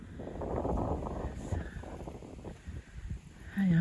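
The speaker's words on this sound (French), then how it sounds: "Ah, il y a un petit peu de vent." Light wind blowing outdoors on a calm, peaceful stretch of countryside near water, a soft steady rumble of gusts buffeting the microphone, with a brief stronger puff at the end.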